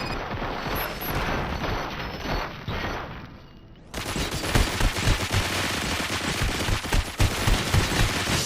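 Sustained gunfire in RoboCop Rogue City, a dense fusillade of rapid automatic shots that briefly eases, then resumes loud and close with sharp individual cracks standing out over the continuous barrage.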